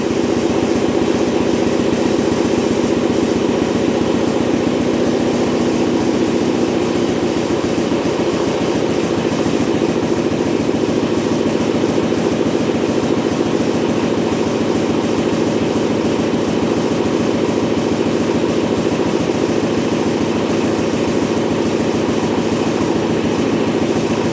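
A 1958 Oliver 550 diesel tractor engine idles steadily as it warms up, a continuous loud, rumbling drone with a fine rapid pulsing texture that holds unchanged throughout, with no talk.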